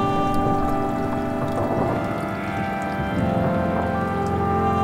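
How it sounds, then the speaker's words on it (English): Rain sprinkles patter on a car windshield during a drive in the Florida Keys, a soft continuous drizzle of drops over a steady engine and road hum inside the car. "the weather starts to look threatening and some sprinkles start hitting the windshield"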